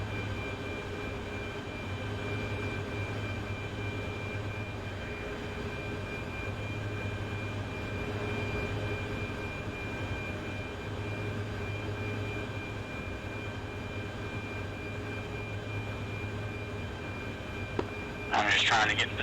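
An aircraft engine in a flight simulation game drones as a steady, continuous hum with a constant low tone, holding even throughout before a short burst of noise near the end.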